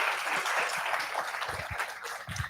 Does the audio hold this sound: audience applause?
yes